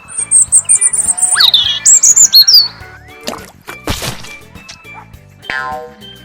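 A blue bird chirps in quick, high repeated tweets and short squawks, close and clear, followed by a few sharp knocks and thuds.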